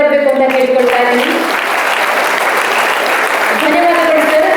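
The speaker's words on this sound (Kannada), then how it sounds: "ಇವರಿಗೆ ನಮ್ಮೆಲ್ಲರ ಪರವಾಗಿ ಒಂದು ದೊಡ್ಡ ಚಪ್ಪಾಳೆ ಬರಬೇಕು ಅಂತ ಕೇಳಿಕೊಳ್ತಾ ಇದ್ದೀನಿ" An audience at a Brahmashree Narayana Guru Jayanthi gathering in Billava Bhavana, Bangalore, breaks into loud, sustained applause, with a speaker's voice over the start and end.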